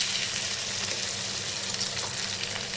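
Cardamom, cinnamon, royal cumin, peppercorns, cumin and ginger pieces frying in hot oil, a close, dense, continuous sizzle with soft stirring scrapes and no talk.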